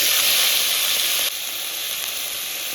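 Beans and potatoes hit hot oil in a wok with a loud, dense sizzle that drops slightly in level partway through and then holds steady and close.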